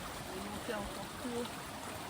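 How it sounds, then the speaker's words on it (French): A small stream trickles and gurgles softly beside rice fields in Bali, a faint continuous flow with brief voices talking quietly over it. "C'est pas les rivières, mais bon, c'est un ruisseau."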